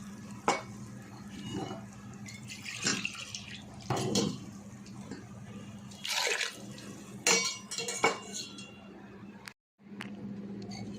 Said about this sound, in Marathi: ह्या सहा वाट्या पाणी आपण यात टाकून घेणार आहोत